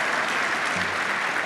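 An audience applauding together, a dense, steady wash of clapping at even loudness throughout the short burst.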